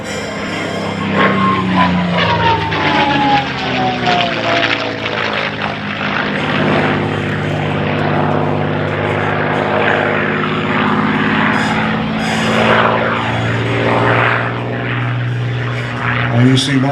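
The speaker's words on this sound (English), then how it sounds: "bringing the P-51 around for his last pass" A P-51 Mustang roars past during an air show aerobatic display, its steady droning engine note swelling and shifting in pitch, loud and close throughout.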